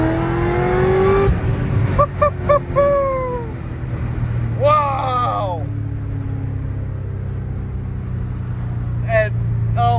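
A Corvette ZR1 accelerates from first into second gear with a supercharged engine roaring low and steady. A whining tone rises over it in short sweeps, while people talk and exclaim over the engine noise.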